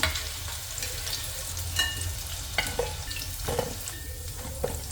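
Mutton kola urundai balls sizzle steadily in hot oil, with a close, constant frying crackle broken by a few sharper pops and light scraping stirs, no voices.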